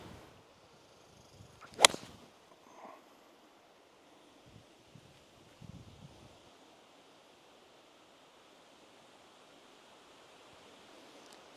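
A golf ball is struck with a 4 or 3 iron on an outdoor course, giving one sharp, crisp impact near the start against steady wind, followed by faint rustling and quiet outdoor ambience.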